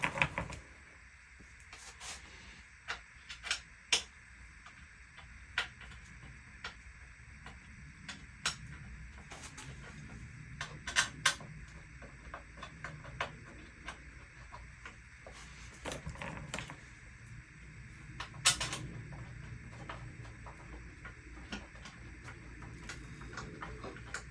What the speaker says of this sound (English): Let's get these bolts in.